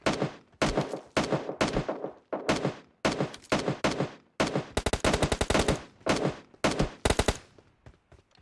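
In PUBG Mobile, automatic gunfire cracks out in repeated sharp bursts of rapid shots, loud and close, with brief pauses between volleys.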